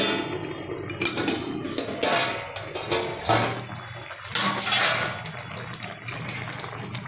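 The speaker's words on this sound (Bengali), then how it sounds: "4 মিনিট বাদে ঢাকনাটা তুলে দিচ্ছি" A lid comes off a pot of hilsa fish curry on the stove, giving metallic clinks and scrapes of cookware over a steady simmering hiss, close and moderately loud, with no voices.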